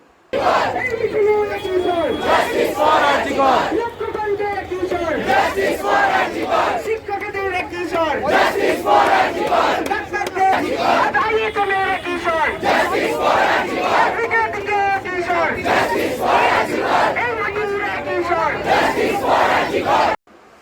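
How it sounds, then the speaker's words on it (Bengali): Protesting junior doctors outside the state health department headquarters in Kolkata chant a rhythmic slogan demanding justice for RG Kar, a loud massed crowd repeating the call in steady cycles throughout. "we demand justice justice for আরজি কর ইত্যাদি স্লোগানে মুখরিত হয়ে ওঠে রাজ্যের স্বাস্থ্য দপ্তরের সদর কার্যালয়"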